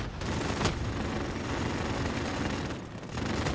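A sentry gun firing in Modern Warfare co-op, a steady, dense stream of automatic shots rattling on without pause, fairly distant and muffled, with no talking.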